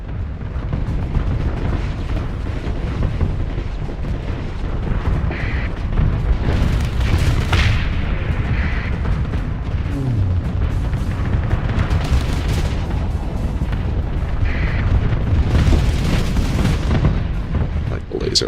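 Repeated booming explosions from a bombing run in the space combat game Starsector, dense and continuous with bursts of crackling blasts throughout, mixed with steady background game noise.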